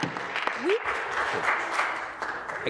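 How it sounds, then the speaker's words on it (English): Members of parliament applauding in the Canadian House of Commons during question period on the occupation of Ottawa, a moderate wash of clapping with a brief voice rising through it. "I could not hear the minister because of the applause."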